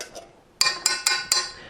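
Petite-cut diced tomatoes tipped into a pan of gently sizzling garlic and olive oil, giving four sharp, close metallic clinks in an uneven rhythm.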